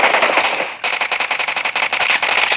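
Rapid automatic gunfire in the mobile battle game PUBG Mobile during a team deathmatch, loud close bursts of evenly spaced shots with a brief pause near the start.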